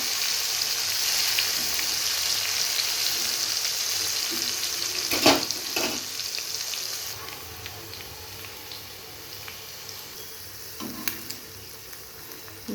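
Bitter gourd chips frying in hot oil, a steady close sizzle with a few sharp clatters of stirring or utensil contact, easing slightly in the second half.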